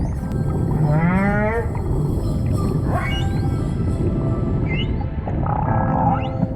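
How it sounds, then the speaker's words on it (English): Humpback whale song heard underwater off Tonga: long rising and falling moans and sweeping whoops, some harmonic and bending upward, over a constant loud wash of ocean noise, several separate calls across the stretch. "One of my favorite parts actually about the entire encounter was hearing the whales sing."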